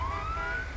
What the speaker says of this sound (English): you're just gonna be blaring your sirens